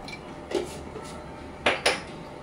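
A pot of idli sambar is stirred with a metal spoon, giving a few sharp clinks and scrapes against the pot, two louder knocks near the end, all close and without talk.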